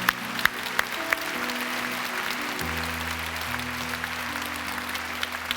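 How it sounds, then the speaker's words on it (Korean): A congregation at a 2008 healing worship meeting gives thankful applause. Scattered, crisp claps ring over sustained keyboard chords that shift pitch. "우리 하나님께 감사와 영광의 박수를 올려드리기를 원합니다."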